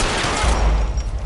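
A loud volley of gunfire in the crime game LA Noire, rapid overlapping shots blurring into a sustained burst that rings out close and forceful for just over a second.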